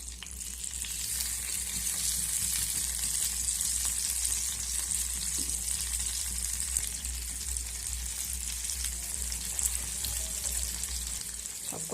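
Stuffed pointed gourd (potol) coated in egg fries in a pan with a steady, bright sizzle. It is close and even throughout, alone without talk.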